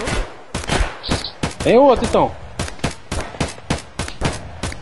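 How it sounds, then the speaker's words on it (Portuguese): Rapid volleys of gunfire in Escape from Tarkov around a red warehouse ring out as sharp, repeated shots in quick bursts, with players talking in between. "Sou eu dando tiro nele."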